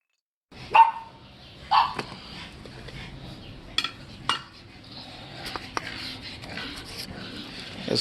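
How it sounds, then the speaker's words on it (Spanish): Dogs bark in a few sharp, separate bursts at moderate distance outdoors near a campfire woodpile, with quieter clatters and knocks between them and no talk. "Ya se callaron los perros."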